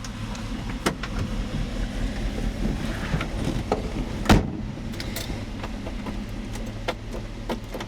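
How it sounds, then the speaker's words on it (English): A Vauxhall Firenza driving around the block, a steady low engine and road rumble close by, with a few sharp knocks and clicks from the cabin or body rising over the drone; no speech. "Just going to take the Firenza around the block."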